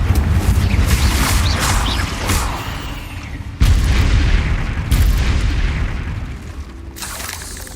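Confringo fire spells in Hogwarts Legacy go off as a series of loud booming explosions, several sharp blasts each followed by a rumbling decay, with no voices.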